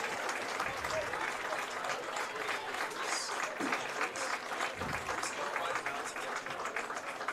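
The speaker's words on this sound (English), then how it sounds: "Big hand on the crowd here for Anthony Kiantamba" A crowd at a 2023 high school football game, Johnston vs Ankeny, applauds an injured senior lineman as he is helped to the cart. Dense, sustained clapping runs steadily through the whole stretch at a moderate level.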